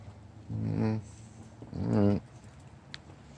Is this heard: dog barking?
yes